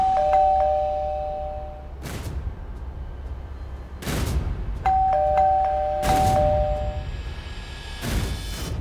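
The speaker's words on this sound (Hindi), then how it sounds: "कब से डोरबेल बज रही है?" A doorbell in a Hindi TV drama gives two clear ding-dong chimes, each cut off by loud, deep booming hits, and the rings sound insistent and repeated.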